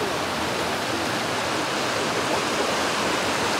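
Water pouring through a completely breached river dam, with a steady, dense roar of rushing flow that stays loud and unbroken throughout, and no voices.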